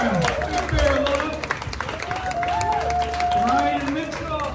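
An audience applauds the comedians at a live comedy show, a steady wash of clapping and crowd noise lasting throughout while a host talks loudly over it.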